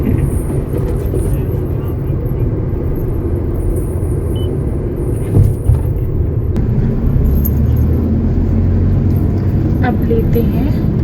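A car rolls through an underpass in second gear, giving a steady low engine and road rumble that stays even and close throughout, with a brief bump partway along.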